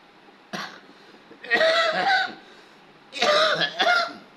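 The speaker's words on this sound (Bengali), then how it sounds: "এই কাশিটা অনেক বেশি।" A person coughs in several harsh bursts: one short cough, then a pair, a pause, and another pair, close to the listener.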